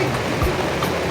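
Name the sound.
rain falling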